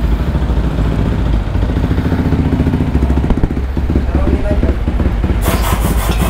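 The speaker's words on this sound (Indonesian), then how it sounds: "Dia starternya kasar, nggak tahu kenapa." The rough starter motor of a Yamaha WR155R motorcycle, fitted with a new starter dynamo and starter gear, grinds and rattles harshly at close range. The sound is loud and continuous, someone talks over it, and a sharp noise bursts in at the end.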